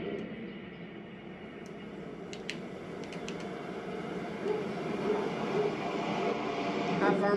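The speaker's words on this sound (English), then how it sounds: "Have our massive train bending around this tight corner." Twelve-car Class 377 electric train running in Train Sim World 2 on the East Coastway, giving a steady moderate rumble that slowly rises, with a few faint clicks and a voice talking over it.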